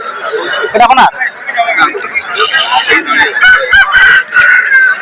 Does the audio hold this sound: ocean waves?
no